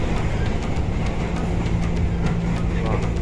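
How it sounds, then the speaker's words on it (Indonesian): KRL commuter electric train pulling into a station on the Jakarta line, a loud close rumble of wheels and carriages with rhythmic rail clicks repeating steadily, and faint voices underneath. "KRL-nya baru masuk."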